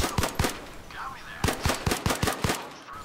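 Gunfire in the VR shooter Zero Caliber on Quest 2: two sharp shots, a short pause, then a quick string of about six loud, close shots in uneven rhythm, with no talking.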